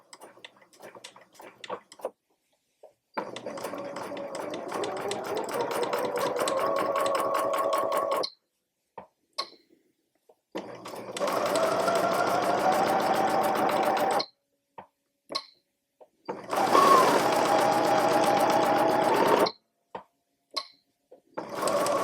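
A home sewing machine stitches slowly around the rounded edges of a fabric book cover, running in three sustained bursts of several seconds each, with short pauses and a few faint clicks between runs.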